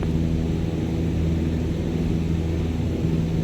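Cessna 152 piston engine in a flight simulator, a steady droning hum with tonal harmonics and a broadband rush, constant and fairly loud throughout with no voices.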